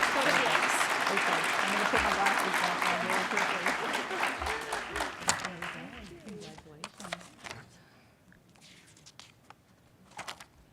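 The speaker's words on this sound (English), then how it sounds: "with a big round of applause" Audience applause at an awards event, loud and dense clapping at first that thins into scattered claps and fades over about ten seconds, with some talking underneath.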